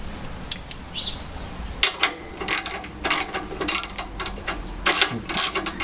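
A ratchet drives nuts onto bolts while a classic Fiat 500 engine is refitted, giving close, rapid clicking bursts with short pauses. Birds chirp faintly in the background.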